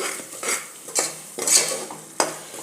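Yogurt being stirred into egg biryani masala in a pressure cooker over low heat, a spoon scraping the metal in four or five separate strokes with a faint sizzle underneath, close and fairly loud.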